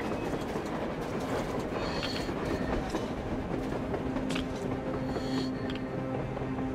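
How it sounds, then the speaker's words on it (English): A train rumbles steadily across the surface in the post-apocalyptic game Metro Exodus, its heavy wheels clattering in a continuous dense roar with faint metallic squeals, loud and unbroken throughout. "A train! A damn train on the surface!"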